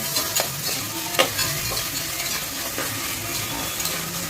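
Onion, crushed spices and rock salt frying in a pan for tomato rice, a steady sizzle with occasional stirring clinks and scrapes, close and continuous with no talk.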